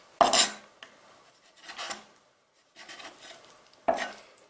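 A knife slices a boned fish fillet on a cutting board, producing a few separate crisp cuts and soft scraping strokes with quiet pauses between them.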